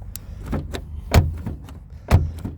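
A Volkswagen Golf 7 1.6 TDI Highline door or tailgate shuts with two solid, close thuds about a second apart, amid lighter clicks and handling noise.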